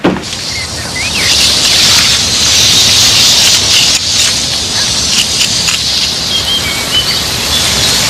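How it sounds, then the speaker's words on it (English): A garden hose sprays water outdoors among flower beds, a steady broad hiss that runs close and loud the whole time, with faint bird chirps behind it and no talking. "Hey, Mary Beth, you sprayed me"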